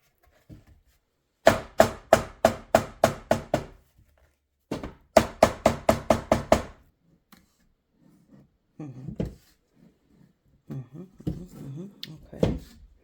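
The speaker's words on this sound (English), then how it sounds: "just hammer this a little bit here." A hammer taps a wooden junk journal snippet drawer during a makeover, in two quick, even bursts of about eight close, sharp knocks each, followed by quieter handling sounds.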